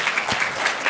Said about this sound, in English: Applause for Dr. Murphy.